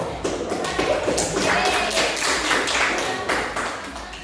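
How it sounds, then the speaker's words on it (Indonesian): A school class claps hands together in a classroom, with a dense run of brisk, overlapping claps lasting several seconds and no talk over it. "Tepuk tangan dulu"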